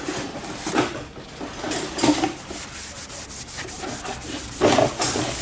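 A cloth wipes fingerprints off a stainless steel Soul Performance valved exhaust for a GT4, making close, repeated rubbing strokes that swell and fade in an uneven rhythm, with no one speaking.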